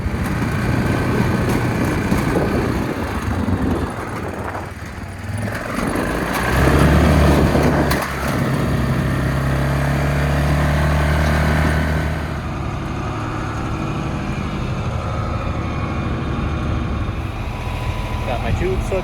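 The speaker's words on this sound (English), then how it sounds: "pull it back here with the tractor" A farm tractor runs steadily during corn harvest work, its low engine drone continuous and fairly loud throughout, with a heavier surge partway through, and a voice talks over it.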